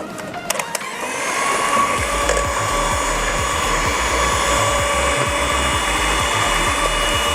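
An electric mixer running at its highest speed beats eggs with sugar for cheesecake batter, a loud, steady whir with a rhythmic churning undertone that starts up after a few clicks and continues unbroken throughout.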